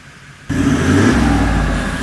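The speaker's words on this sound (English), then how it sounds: "You can definitely notice she drives way better with the exhaust." A Toyota Land Cruiser with a newly fitted exhaust surges from quiet into a loud, close engine roar as it accelerates, a steady throaty drone holding for the rest of the moment.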